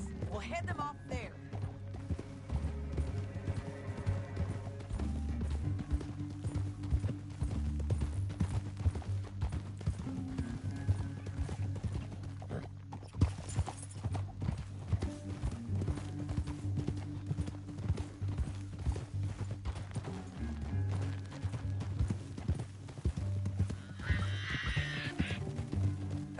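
Horses gallop in Red Dead Redemption 2, a Wild West video game, their steady rapid hoofbeats continuing under a music bed, with occasional whinnies and voices talking over them.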